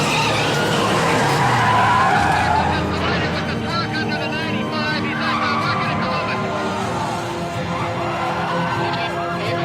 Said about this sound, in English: he crashed into a truck